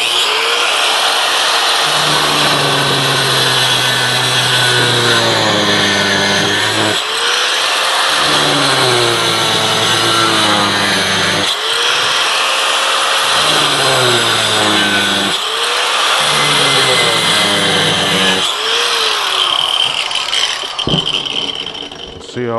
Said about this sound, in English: now I'm going to use the angle grinder to cut this